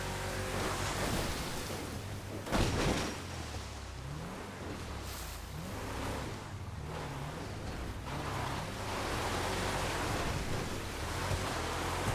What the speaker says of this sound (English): sometimes these waves will help you push you up onto the rocks